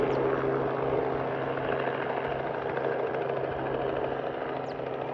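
A small plane or helicopter on a foggy day, its steady engine drone carrying from a distance at a constant level throughout, with no voices.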